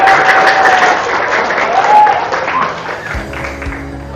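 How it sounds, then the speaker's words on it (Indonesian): Classroom applause from a group of about thirty-six students, a dense burst of clapping that is loud at first, then thins into scattered claps near the end. "Tepuk tangan buat semuanya."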